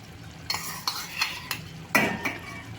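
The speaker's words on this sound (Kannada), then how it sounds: "ಈಗ ಬೇಯಿಸಿ ಇಟ್ಟಿರುವಂತಹ ತೊಗರಿಬೇಳೆನ ಮಿಕ್ಸ್ ಮಾಡೋಣ" A metal spoon stirs cooked toor dal into ridge gourd curry in a pot, giving about six close scraping, clinking strokes at an uneven rhythm over a low simmer.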